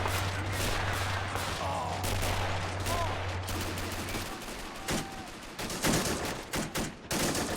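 Light gunfire from American troops in the World War II strategy game Men of War: Assault Squad crackles in a steady background rattle, then breaks into several louder, closer bursts near the end.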